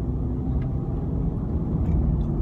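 Land Rover Discovery Sport driving on the road, a steady, smooth low engine and road rumble heard from inside the cabin, continuous and even throughout with no talking.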